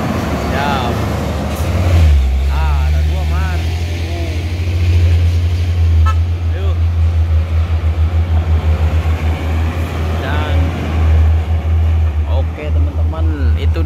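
A loaded Hino dump truck carrying split stone labors up a steep road, its loud low engine drone rumbling steadily and close throughout, with voices talking over it at times.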